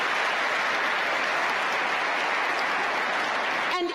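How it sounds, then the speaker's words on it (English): Sustained applause from a ceremony audience at the Mobile World Congress opening in Kigali, Rwanda, a dense, steady wash of clapping at even loudness that ends abruptly. "Please give yourselves a resounding round of applause."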